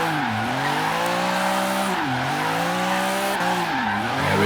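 A BMW M3 E36 drifts in Forza Horizon 3, its tires skidding and squealing in long sweeping slides over a steady engine drone, with repeated pitch dips as the car transitions between slides.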